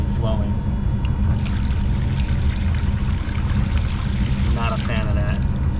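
Water runs steadily from a leaking York fan coil unit, a continuous broadband rush like a stream or pour, with brief faint clinks over the top.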